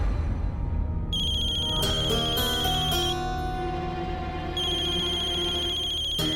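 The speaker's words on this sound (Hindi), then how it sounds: "अनिकेत फोन नहीं उठा रहे हैं।" A telephone rings unanswered in a Gujarati comedy series scene, a repeating electronic ringtone melody playing in bursts over a low musical background, no talk.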